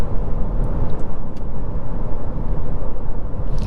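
A 2023 Kia Niro SX Touring hybrid cruising at about 50 mph, heard as a steady, continuous low road and engine rumble with tire noise, loud and unbroken throughout.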